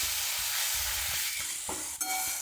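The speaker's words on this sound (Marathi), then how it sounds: "आता आपण त्याच्यामध्ये ही भाजलेले हे करून घेतलेले वांगे टाकत आहोत भरिताचे वांगे" Roasted Jalgaon brinjal tipped into a frying onion-tomato mixture for bharit sizzles loudly and steadily up close, with soft stirring scrapes and a sharp clatter near the end.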